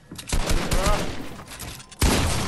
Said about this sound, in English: He shot at me so hard.